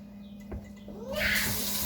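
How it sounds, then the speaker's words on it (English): Hot water pours into a container holding grated soap for homemade laundry detergent. It begins as a quiet trickle and swells into a louder, steady gush in the second half. "I'm going to add 4 cups of hot water into here."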